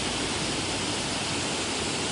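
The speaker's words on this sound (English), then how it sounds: "we found a new waterfall today" A waterfall on Deckers Creek pours in a steady, loud, unbroken roar of rushing water, heard close by and alone throughout.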